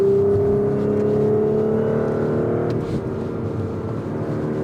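A 2022 Audi S4 with quattro all-wheel drive pulling hard on a mountain pass: a loud, droning engine note holds steady, dips briefly mid-clip as if shifting, then carries on strongly.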